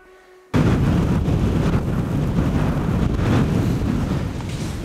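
Strong, steady wind roars and buffets the microphone on a winter fell in Pallas-Yllästunturi National Park, Finland, a broad rushing noise that starts abruptly and holds loud throughout.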